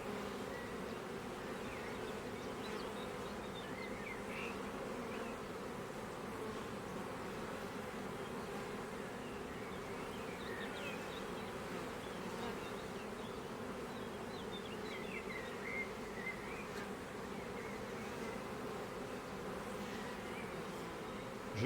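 Honey bees hum in a dense, continuous drone around an open hive during an inspection, close and steady throughout with no talking.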